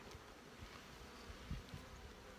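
Honey bees buzzing around an open beehive during a spring health-check inspection, a faint, steady drone with a few brief louder passes.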